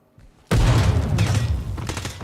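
In the tactical shooter Ground Branch, a frag grenade detonates after a quiet moment with a sudden, loud blast that rumbles on and slowly fades over the next second and a half.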